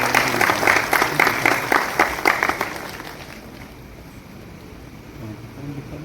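An audience at a formal function claps to welcome the chief guest onto the stage, a burst of applause that fades after a few seconds into quiet room noise.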